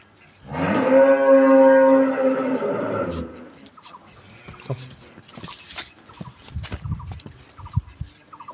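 A very large Holstein Friesian dairy cow lets out one long, loud, drawn-out moo, followed by quieter scattered knocks and shuffling noises.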